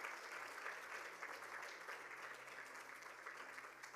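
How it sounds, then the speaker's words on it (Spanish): Church congregation applauding, a faint, steady patter of many hands clapping together at a distance, continuous for a few seconds. "Give a round of applause to the Lord."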